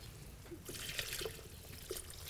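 A little water is poured into a pot of Irish lamb goulash, making a soft, brief trickle and splash lasting a couple of seconds, quiet and close with no talking.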